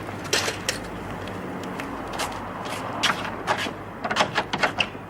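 Someone tries to open a locked door, rattling and working the handle and latch in a string of close, uneven clunks and knocks over a steady background hum.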